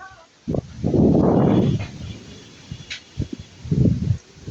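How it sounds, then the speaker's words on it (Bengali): Strong gusts of wind rush through the leaves in front of a village house during stormy weather, swelling into a loud broadband roar, easing off, then returning in a shorter burst, with a few knocks in between. "ওয়াও, খুবই বাতাস।"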